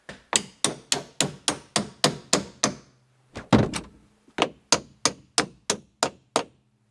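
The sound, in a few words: bending a door hinge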